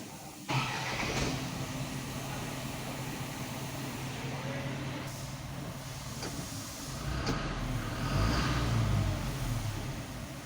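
An Isuzu Euro 4 truck engine starting and running, a low steady rumble with a hissing wash on top, swelling louder near the end, while someone talks nearby.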